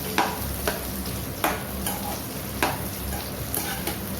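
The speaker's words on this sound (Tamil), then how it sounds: "இதை கொஞ்சம் நல்லா வதக்கிக்கணும்." Brinjal pieces sautéed in a pan for Tamil kathirikai gothsu, a steady sizzle with a spatula scraping and tapping every second or so, close and alone.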